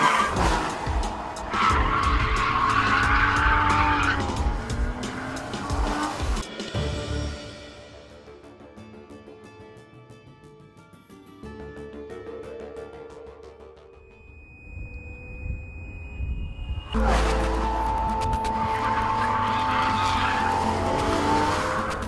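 A Porsche sports car launches hard above 6,000 RPM with loud, sustained tire squeal and a roaring engine, easing off midway before another burst of screeching tires and revving.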